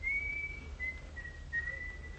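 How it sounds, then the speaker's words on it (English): A man whistles a wavering tune in a steady, moderately quiet line with a few brief breaks, over faint low hum. "Yeah, go on whistling."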